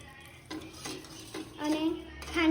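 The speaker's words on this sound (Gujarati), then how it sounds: "અને સારી રીતે મિક્સ કરી દઈશું" A spoon stirs a sugar and water mixture in a pan for a khaman tempering, with soft scraping and light metal clinks that grow louder and busier toward the end; no one speaks.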